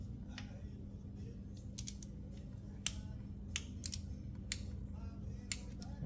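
A torque wrench tightening the drain plug of a 2015 Ducati 800 Scrambler to 20 Nm gives a few small, sharp clicks over a steady low hum.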